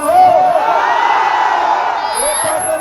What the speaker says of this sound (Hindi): चारों तरफ से हजारों उठा के ताली बजा रहे हैं।